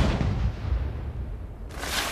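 Fireworks blasting during a Chinese street celebration in Yunnan, a burst of heavy booming bangs rumbling close and loud, then a sharp crackling flare near the end.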